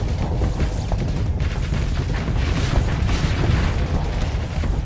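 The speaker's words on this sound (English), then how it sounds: "I want all the guns shooting at him." Ship guns fire in the space combat game Starsector with the Nexerelin mod, a dense, continuous barrage of booming blasts and rumbling explosions that keeps going with no break.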